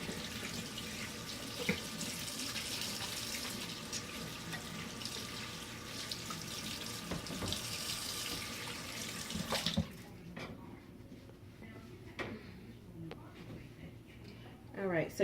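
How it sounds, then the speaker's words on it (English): A running kitchen tap pours steadily while hands are rinsed under it during ribs preparation, a continuous close splashing wash that stops abruptly after about ten seconds, leaving a quieter room with faint handling noises. "let me rinse my hands off really quickly"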